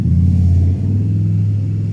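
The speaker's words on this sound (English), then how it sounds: "someone going by on his Harley, sounds quite cool" Harley motorcycle going past, a loud, deep, throbbing V-twin rumble that holds steady and then drops slightly in pitch as it moves on.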